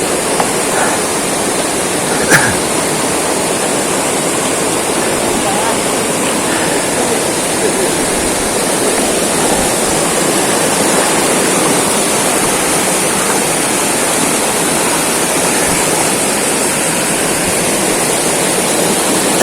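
Strong river current rushing over rocks during a crossing in General Nakar, Quezon, a loud, steady, close roar of water that runs without a break.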